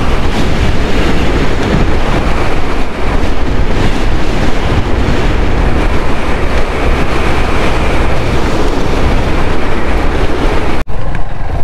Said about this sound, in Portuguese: E o vento veio torando.